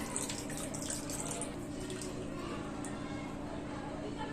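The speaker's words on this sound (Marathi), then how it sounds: "आता आपण ह्याच्यात पाणी घालूया." Water pours into a pot of misal gravy in a continuous splashing rush, close and fairly loud, fading toward the end, with no talk.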